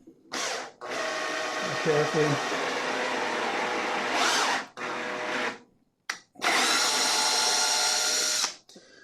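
A power drill turning a tap into wood whirs loudly in several long bursts with brief pauses between them, and a voice speaks briefly near the start.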